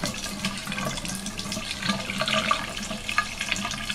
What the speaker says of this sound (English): take your brush and then wet it